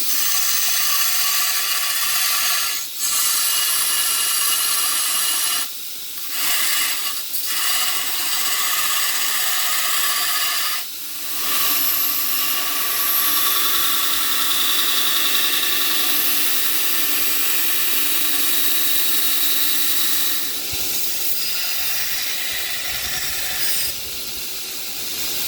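Grinding of a hunting knife blade forged from an old file: a steady, loud abrasive whir runs almost the whole time, with a few short breaks where the blade is lifted off the grinder.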